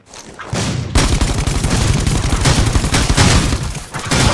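Rapid gunfire crackles in a Rules of Survival battle royale match, with dense, loud bursts of shots that start softly, then hammer almost continuously for several seconds, with no talk over them.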